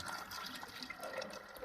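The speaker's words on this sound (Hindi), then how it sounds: "हम लोग इसमें पानी डाल लेते हैं," Water splashes and gurgles as it is poured into beef korma in a pressure cooker, a continuous close pouring sound without speech.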